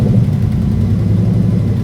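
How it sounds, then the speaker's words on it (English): A racing car's V6 engine revs loud and close, a dense continuous roar holding steady for under two seconds with no talk. "Just revving it and hearing the sound of the V6."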